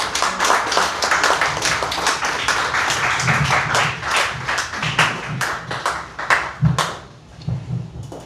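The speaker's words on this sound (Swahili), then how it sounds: "Pigia makofi mazuri." A church congregation applauds during a Swahili sermon, with dense, steady clapping from many hands sustained throughout and a faint murmur beneath.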